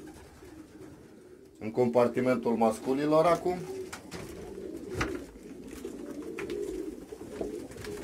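Pigeons coo repeatedly in the males' compartment of a racing pigeon loft, several loud, near, throaty calls in quick succession, with a voice speaking Romanian over and between them.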